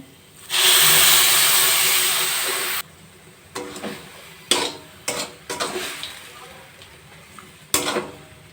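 Water poured into a hot pan of semolina gives a loud, sustained hiss for about two seconds. Sharper clinks and scraping stirs follow close by.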